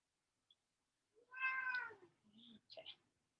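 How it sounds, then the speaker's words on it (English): A cat meows a few times close by, a clear drawn-out cry followed by two shorter, softer meows in an otherwise quiet room. "so much meowing"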